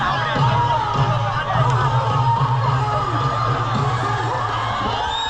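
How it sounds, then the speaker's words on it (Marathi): A dense crowd cheers, shouts and whoops continuously at a Dahi Handi festival on the muddy, waterlogged Jamboree Maidan ground in Worli, Mumbai. The roar is loud, steady and close, with voices overlapping throughout. "आणि सगळ्या परिसरात जल्लोष सुरू होता."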